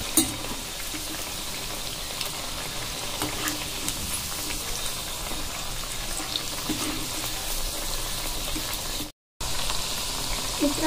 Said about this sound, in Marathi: अशा प्रकारे आपल्याला ते तळून घ्यायचं आहे.